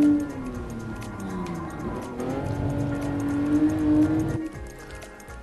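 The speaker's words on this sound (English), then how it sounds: "That was the Toyota 2000 GT from 1967." A 1967 Toyota 2000GT in the racing game GT Sport, its engine droning with a clear tonal note that rises and holds under steady acceleration, then drops off abruptly as the throttle is released near the end.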